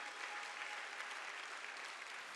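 Sustained, even applause from a church congregation during a Sunday sermon, a dense wash of many hands clapping at steady loudness throughout with no voices over it.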